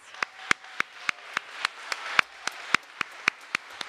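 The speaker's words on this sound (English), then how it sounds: "Please, a round of applause." Sparse applause from a small audience at a church service, a few distinct hand claps in a steady, evenly spaced rhythm, fairly close and crisp against a quiet room.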